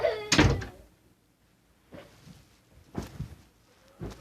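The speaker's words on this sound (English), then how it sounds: "Please shut my door." A door thumps shut indoors in a single loud, close knock, followed by softer bumps and faint movement in a quiet room.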